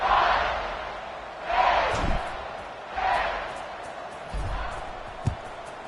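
A stadium crowd in an American football video game roars in repeated swelling waves, rising and easing several times with a few sharp thumps between them.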